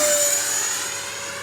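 A Freewing 80mm MiG-21 RC jet passes with a steady high-pitched turbine whine and hiss, fading slightly over a brief moment.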